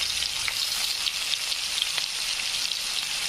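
Onion frying in hot oil with cumin and mustard seeds, a steady bright crackling sizzle with scattered small pops, close and constant throughout.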